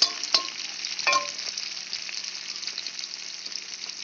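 Onions browning in hot oil in a pan for a Bengali fish kaliya sizzle and crackle steadily, with a few louder stirring scrapes near the start, heard alone.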